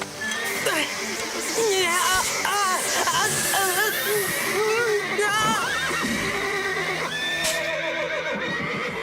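Several horses whinny and neigh in panic in agitated, overlapping bursts, loud and close, with excited human voices and clattering mixed in, in an animated cartoon.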